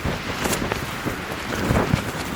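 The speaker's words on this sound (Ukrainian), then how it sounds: "Коротше, піднявся сильний вітер." Steady, strong wind roaring and buffeting the microphone on a September mountain hike in Syniohora, a continuous rushing noise with gusty swells and no voices.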